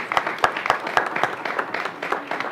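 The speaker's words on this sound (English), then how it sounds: "Really, just another round of applause for Rick, Mike, Nicholas, Ellie, and Thomas" An audience at a retail and consumerism forum applauds, giving a dense, steady round of clapping with a few sharper individual claps standing out.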